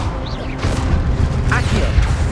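Incendio fire spell cast in Hogwarts Legacy, a burst of whooshing magical flame with a low boom, brief and loud amid other spell-casting effects.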